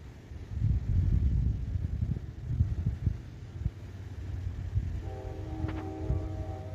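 A train rumbles past with a low steady roar, then sounds a loud sustained horn blast near the end.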